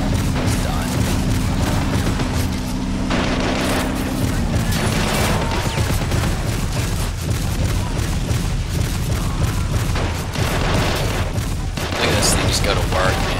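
Battle sounds from the Men of War Assault Squad 2 video game, a 4v4 match on a town map: continuous dense gunfire and booming explosions fill the whole stretch, with a player talking over the combat.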